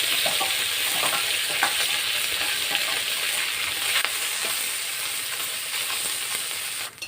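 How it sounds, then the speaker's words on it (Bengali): Small fish rubbed with turmeric and salt frying in hot oil in a wok, giving a steady, dense sizzle with crackling pops that holds evenly for several seconds and fades out at the end. "এবার কুচো মাছগুলো ভাজবো। কড়াতে তেল দেব।"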